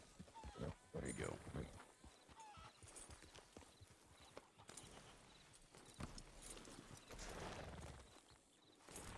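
Horses' hooves clip-clop on the ground in the western roleplay game WildRP, an irregular run of hoof strikes mixed with faint whinnies, heard under people talking.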